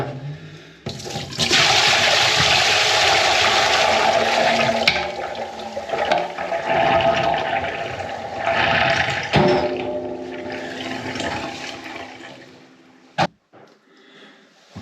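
Water gushing and splashing out of a Bosch washing machine as the drain pump is replaced, a loud steady pour for several seconds that gradually tapers off, with a sharp knock near the end.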